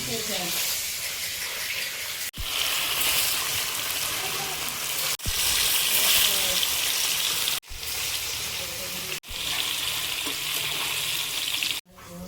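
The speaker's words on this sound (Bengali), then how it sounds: "পনিরগুলো ভেজে নেবো।" Paneer sizzles steadily in a hot pan, a continuous frying hiss broken by a few brief cuts.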